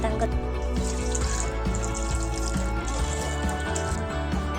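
Water is poured to bathe a deity idol during a Janmashtami puja, a running, splashing flow with drips, heard close and steady with faint tonal background sound.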